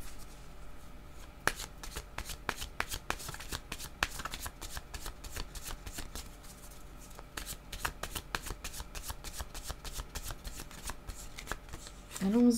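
Tarot cards are shuffled by hand in a quiet room, a rapid series of soft riffling snaps and flutters, close and fairly faint, continuing steadily with small pauses.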